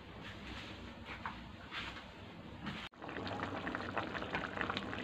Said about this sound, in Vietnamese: Đây, cái nồi canh của mình nấu như thế này là được rồi mọi người ơi.